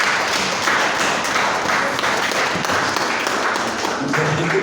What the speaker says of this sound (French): Applaudissez l'Esprit de Dieu dans la vie.